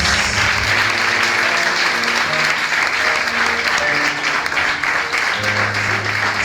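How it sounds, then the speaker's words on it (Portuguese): A congregation applauds during a church service, a steady, loud wash of many hands clapping that continues throughout with no pause. "É uma salva de palmas que alegra o meu Deus."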